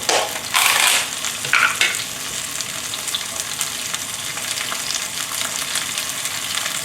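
Ginger and garlic stir-frying in a hot wok, a loud crackling sizzle with two sharp bursts near the start as they hit the oil, then a steady frying hiss throughout, no talk.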